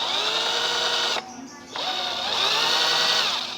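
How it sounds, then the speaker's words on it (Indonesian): A Pozner cordless impact drill whirs loudly at high speed, briefly drops off for about half a second, then spins back up and keeps running steadily. "Kita coba impactnya, impact drill."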